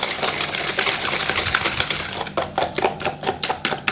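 Egg being whisked with sugar and ghee for biscuit dough, a rapid, steady clatter of a whisk against the bowl, close and continuous with a quick rhythmic beat.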